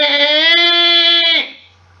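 A person imitates a goat with one long, nasal, wavering 'meh' bleat, loud and close, ending abruptly, followed by a brief low hum.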